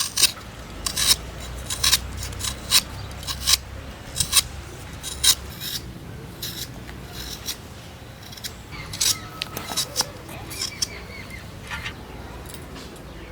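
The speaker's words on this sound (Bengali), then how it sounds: "পেঁয়াজটা কেটে নিচ্ছি।" Knife chops through onion for a fish curry, giving a series of crisp, irregular cutting clicks and scrapes close up, with no talk over them.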